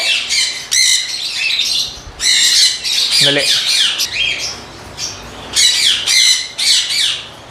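Loud, harsh Indian ringneck parrot squawks repeat in rapid bursts close by, with a brief spoken word in between.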